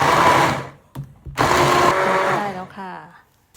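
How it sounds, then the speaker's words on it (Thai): A kitchen blender whirs loudly as it purées pumpkin custard ingredients with dates, running in two bursts separated by a short pause, its pitch sliding down as the motor winds to a stop. "แล้วเราก็ปั่นทุกอย่างรวมกันค่ะเพื่อน ๆ"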